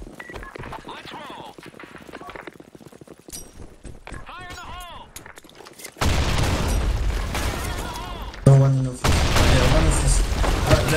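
A grenade explodes in the online shooter Blackshot, a sudden loud boom followed by dense, sustained blast noise mixed with gunfire; players talk over the game sounds before and during the blast.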